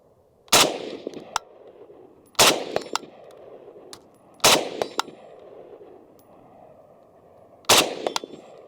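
Four sharp, loud shots ring out at irregular intervals from an FN FNC rifle with a 17-inch barrel. Each crack is followed by quick metallic clinks and a short decay.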